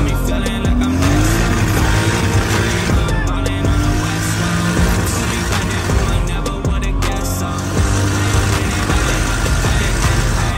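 A drift car drives hard with a loud, close engine roar, revving up and down while the tires squeal and skid, with no speech over it.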